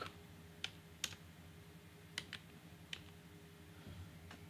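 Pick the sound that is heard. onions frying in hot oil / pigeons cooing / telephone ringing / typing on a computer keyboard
typing on a computer keyboard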